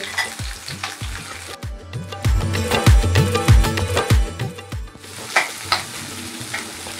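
Onion, green chillies, ginger and mint sauté in a pan for a Hyderabadi paneer dish, giving a steady close sizzle broken by repeated stirring scrapes and clinks. The activity grows louder in the middle, with no talking.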